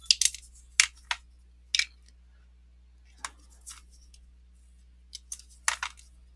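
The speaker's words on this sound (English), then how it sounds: "Let's cut off, we can cut a little more away of this." Scissors snipping material to shape a Greek-themed diorama base: sparse, crisp clicks and short cuts in small clusters, close by against a quiet background.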